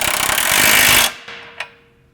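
A power tool snugs up a bolt on a Mk8 GTI's suspension during a lowering-spring install, a loud continuous whir for about a second, then a few short clicks and clanks as it stops.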